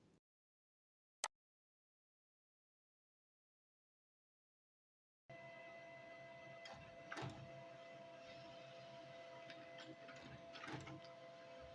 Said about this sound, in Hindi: तो ये जो हमारे पेपर्स हैं वो वन साइड प्रिंट होकर के आ रहे हैं